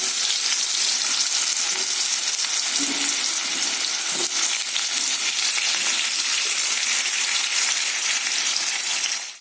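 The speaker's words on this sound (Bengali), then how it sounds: "কুমড়ো ভাজবো সাদা তেল দিয়ে" Pumpkin pieces fry in hot white oil, a loud, dense and unbroken sizzle that holds steady for about nine seconds before cutting off, with no voices.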